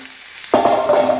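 Fish slices (capitaine) hit a pan with a little oil, starting a sudden sizzle after a quiet low hum; the sizzle keeps going steadily with light crackles.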